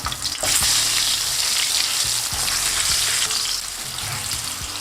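Salmon frying skin-side down in oil in a pan makes a loud, steady, crackling sizzle, with occasional faint clicks as it cooks.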